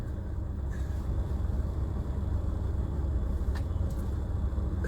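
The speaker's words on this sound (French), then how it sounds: "Regarde, me voici dans ma bagnole, Marlène." Inside a moving car on the road: a steady, loud low rumble of engine and tyre noise with faint ticks now and then, no talking.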